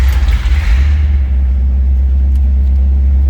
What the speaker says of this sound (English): Nice little rumble out of that 327.